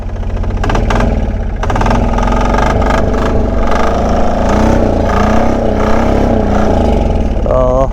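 A 1999 Polaris diesel 455 engine chugging on a test drive through snow, a loud close low throb with a steady rhythmic pulse and rising revs near the end.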